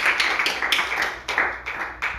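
A church congregation claps during a sermon, a quick run of irregular claps close by with several louder bursts, no voice heard over them.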